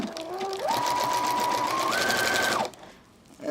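A sewing machine stitches a double-ended potholder with a quilting bar attached, running in a fast continuous whir whose pitch steps up in speed, then stops abruptly with a faint click after.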